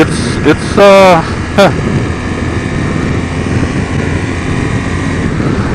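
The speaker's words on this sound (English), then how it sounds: "But this exhaust is louder and it has a different tone." A motorcycle fitted with a Remus Hexacone slip-on exhaust drones steadily while riding, with a loud, continuous engine and wind roar throughout and a brief voice near the start.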